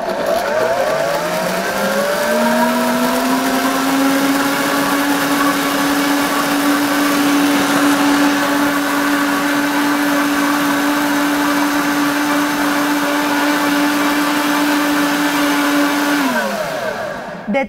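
Kitchen blender whirring steadily at high speed while mixing a smoothie with water or milk, spinning up at the start, holding a loud constant drone, then winding down at the end, with no voices.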